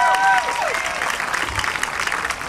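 At an outdoor political rally in Denver's City Park, a crowd breaks into brief applause and cheering, a dense wash of claps heard from a short distance after a voice trails off.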